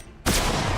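Hand cannon gunshot in XCOM 2, a sudden loud blast after a brief quiet moment, followed by a sustained broadband burst of crackling energy as the shot's effect plays out.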